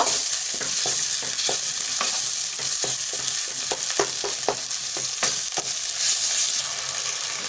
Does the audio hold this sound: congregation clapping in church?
no